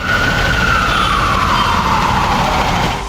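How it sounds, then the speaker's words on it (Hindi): A loud wailing ambulance siren sweeps steadily downward in pitch, close by, over a low engine rumble with no talking. "एम्बुलेंस की लाइट जल रही है, सायरन बज रहा है,"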